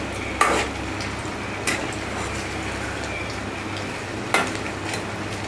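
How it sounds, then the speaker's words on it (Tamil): Cauliflower florets deep-fry in oil for a crispy gobi fry, giving a steady sizzling hiss with three brief clinks of a utensil against the pan. "நல்லா ரெண்டு பக்கமும் நல்லா கோல்டன் ப்ரௌன் கலர் வர வரைக்கும் நம்ம பொரிச்சிக்கலாம்"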